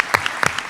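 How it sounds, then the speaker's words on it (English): Brief burst of audience applause at a women-in-sport event, a few sharp claps standing out over a fuller clapping crowd, close and fairly loud, lasting under a second. "Give her a round of applause."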